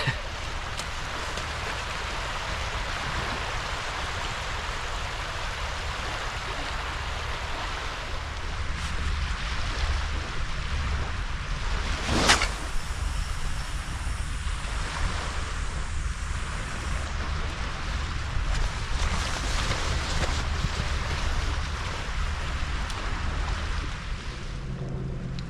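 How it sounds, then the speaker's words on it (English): Continuous water noise by the sea in South Wales while sea fishing, a broad steady wash of waves and splashing with wind, one sharp knock midway. "There's something about the sound of water"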